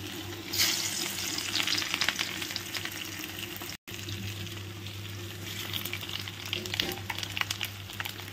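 A village cooking tadka of garlic and dry chillies sizzles steadily in hot oil, a close, continuous crackling fry with a brief cut midway, and no voices.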